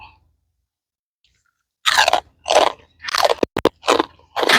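Crispy food being crunched and chewed during a meal of rice noodles with wild curry and fish balls, with several close, loud bites in a quick irregular rhythm after a brief quiet start.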